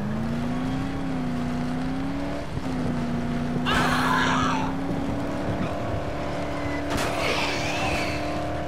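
A steady car engine drone in the video game Dead Island hums throughout, with two bursts of harsh skidding or crashing noise around the middle and near the end, no talking.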